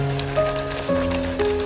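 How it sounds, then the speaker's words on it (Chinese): Diced eggplant coated in beaten egg lands in a pan of hot oil and sizzles, a steady crackling hiss beneath sustained background music tones. "油温烧热之后，再把茄子、鸡蛋倒入锅中"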